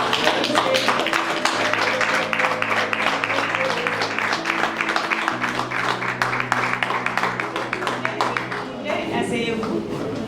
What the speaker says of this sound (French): Mais on va vous applaudir.